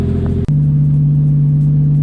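A Nissan 240SX with a swapped 1JZ VVTi engine idles steadily while warming up, a low, even hum with a brief dip near the start, then a constant drone with no voices.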